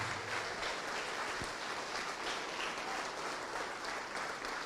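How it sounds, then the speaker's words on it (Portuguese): A congregation in church applauds in a continuous, dense, even roar of clapping that carries at steady loudness for several seconds without pause. "vamos aplaudir mais ao nome de Jesus"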